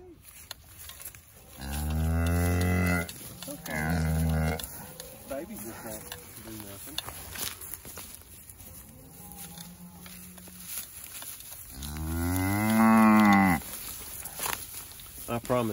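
A mama cow moos loudly three times, long and drawn-out, while her calf is caught and tagged outdoors; the calls come in two close bursts and a later one, with shuffling movement and quiet background noise between.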